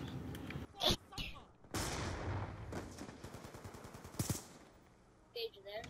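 Rapid gunfire bursts and single sniper shots in the Black Ops 2 video game, loud and close, cracking in irregular clusters with a sharp burst near the middle and another near the end.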